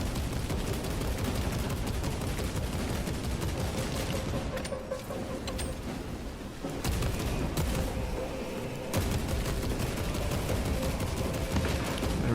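Sustained gunfire in a video game as incoming enemies are shot, a dense, continuous rattle of rapid shots with a brief dip in the middle before resuming.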